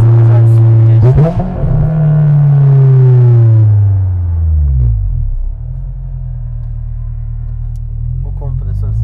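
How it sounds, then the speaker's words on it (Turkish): A supercharged Honda S2000 engine revs up close by, its pitch climbing and holding, then sliding back down into a steady low idle rumble with a brief blip near the end. "Bu kompresör sesi bambaşka."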